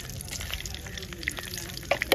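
Cumin seeds frying in hot oil with whole spices like peppercorns, cloves, cinnamon, cardamom, bay leaf and dried chilli, cooking outdoors, a steady close sizzle with scattered sharp pops and crackles.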